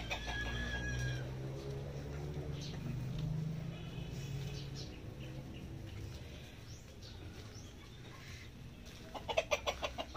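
Chickens cluck softly in the background on a provincial farm in Davao, Philippines, with a rooster crow at the start and a sharp burst of clucking near the end, fairly distant.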